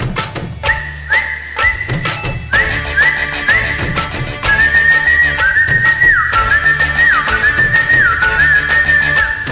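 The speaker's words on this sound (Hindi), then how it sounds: "मैं तो सीटी बजा रहा था" A person whistles a bright, wavering melody of repeated gliding notes over a loud backing of drums and instruments in a Hindi film song, the whistle steady and prominent throughout.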